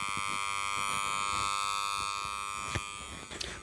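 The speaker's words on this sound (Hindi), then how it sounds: "तो इसकी साउंड इस वजह से आ रही है क्योंकि यहाँ पर जो इसका वाइंडिंग है वो ढीला" An inverter transformer with a loose winding hums in a steady, continuous electrical buzz rich in overtones, holding level for several seconds before a few brief clicks near the end.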